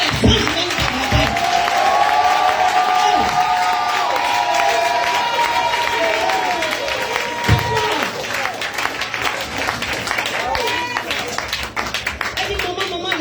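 A church congregation at a French-language worship service claps and cheers steadily throughout, a dense roar of applause with shouts and voices mixed in, loud and close.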